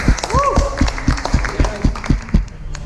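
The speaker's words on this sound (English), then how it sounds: "Guys, clap for Lorena, please." Scattered hand clapping from a small walking tour group in Lima, a handful of loose, uneven claps close by, mixed with voices talking over them.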